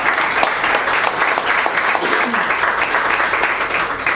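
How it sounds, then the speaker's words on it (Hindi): An audience claps loudly and continuously for three honored legends at a poetry event, a dense, steady wash of applause filling the whole span. "एक बार जोरदार तालियां तीनों लेजेंड्स के लिए।"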